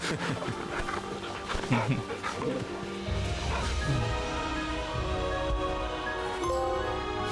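Torgal, the dog in the Final Fantasy XVI video game, panting and whimpering softly while being petted, heard close with game ambience and a person talking over it.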